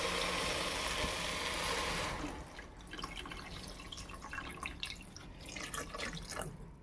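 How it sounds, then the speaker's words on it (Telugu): Water poured from a vessel into a pot while making mushroom biryani, a loud steady gush for about two seconds, then scattered drips and light metallic clinks. "సో ఇప్పుడు నేనైతే 1 చెంబు నీళ్ళు పోసుకుంటున్నాను."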